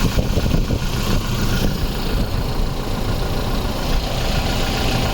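A 2022 Toyota Fortuner Sigma 4 manual 4x4 diesel engine idles with a continuous, even low rumble and a faint knocking texture. It is loud and close-miked, with no speech over it.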